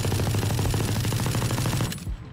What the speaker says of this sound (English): Next up is the first of our LMGs, and that is the Ares.